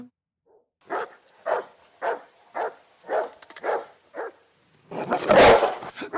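Dogs barking in the 2002 film Signs: a run of six or seven spaced, moderately near barks in a steady rhythm, followed by a louder, denser burst of barking at the end, with no talk over it.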